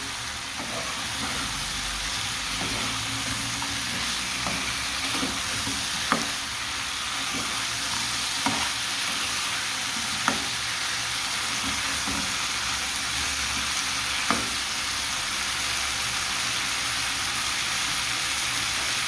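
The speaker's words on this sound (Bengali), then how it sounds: "এখন ভেজে দেবো।" Broad bean pods, tomato and potato fry in spiced oil with a steady, close sizzle that runs throughout, broken by occasional light clinks of a stirring spoon against the pan.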